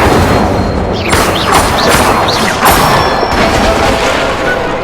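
Fire spell cast during practice in the video game Hogwarts Legacy: a loud, continuous rushing roar with a few whooshing flare-ups around the one- to three-second mark, and no speech.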